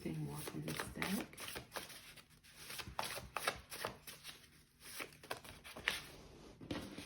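Cards from a deck are shuffled in a quiet room, giving repeated soft riffling and flicking bursts in uneven rhythm, close and fairly faint, with no talking.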